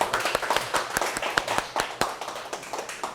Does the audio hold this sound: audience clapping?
yes